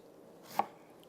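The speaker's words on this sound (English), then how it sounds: "So there's two different ways of slicing the onion." One knife stroke through an onion lands on a cutting board with a single crisp tap, quiet and close, then near silence.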